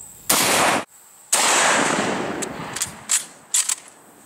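A Type 38 rifle fires 7.62x54R rounds at a Midwest Armor Guardian IV stand-alone Level IV rifle plate outdoors: one sharp loud blast, then a second with a long decaying echo, followed by a few fainter clanks and pops.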